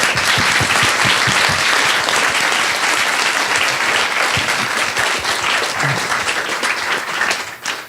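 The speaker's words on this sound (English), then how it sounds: "I want to give one more big round of applause to our panelists as well." A large audience claps loudly and steadily in a dense, sustained round of applause for the panelists at a Kid Power event in Boston, fading slightly near the end.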